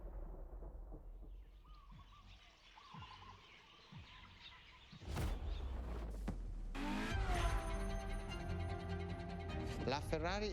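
A LaFerrari hybrid supercar in The Crew Motorfest idles with low thumps, then its engine surges into a loud, sustained roar with rising and falling revs while a person talks over it.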